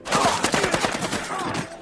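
A rapid burst of gunfire from a zombie drama TV episode, sharp close shots firing in quick succession over about two seconds before tailing off.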